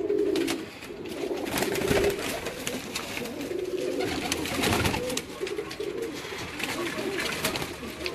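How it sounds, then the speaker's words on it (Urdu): Teddy pigeons coo repeatedly in soft, throaty phrases close by, mixed with light rustling and someone talking over them for much of the time. "یہ بھی ٹیڈی کبوتر ہے"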